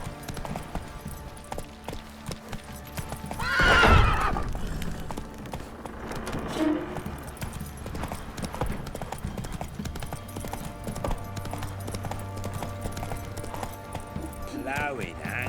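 Hooves of the horse Roach clip-clop at a gallop in The Witcher 3, with a loud neigh rising near the start and game voices and ambience running underneath.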